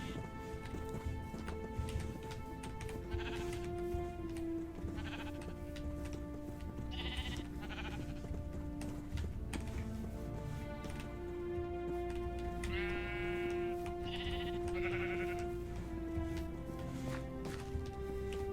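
Minecraft sheep bleat repeatedly in a survival world, several short wavering calls spread over a steady background of game sounds.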